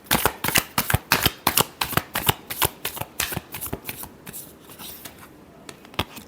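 Tarot cards shuffled by hand up close, a steady run of sharp, papery riffles and slaps repeating rapidly in an even rhythm for several seconds, with no voice over them.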